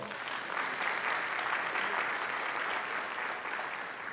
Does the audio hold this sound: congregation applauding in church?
yes